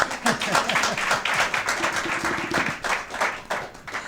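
A crowd at a Christmas special event claps continuously and fairly loudly throughout, with a voice talking over the applause.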